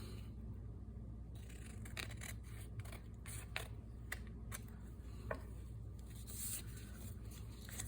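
Paper being trimmed for a paper bag journal: soft rasping cuts and rustling handled close by, with a string of short crisp snips and scrapes spread over a quiet room background.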